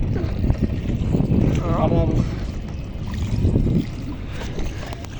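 A passenger launch moving on a river, its broad engine and water rumble steady and fairly close under wind buffeting, with voices talking over it.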